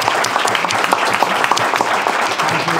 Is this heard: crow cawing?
no